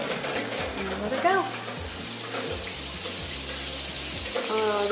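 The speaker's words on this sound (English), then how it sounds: "So then what I do is I just turn on the water" Shower water running steadily over bathroom tile in a newly moved-into home, a broad continuous hiss with faint background music and brief voice-like tones mixed in.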